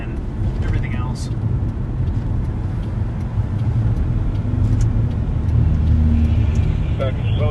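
Car rolling slowly through traffic held back to leave a buffer around a training motorcade in Eugene, a steady low road rumble throughout with speech present over it.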